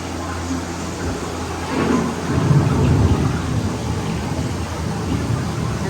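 Rain falls steadily with deep rolling thunder as a thunderstorm effect on an Epcot ride at The Land, a dense continuous roar that swells in the middle and stays loud throughout.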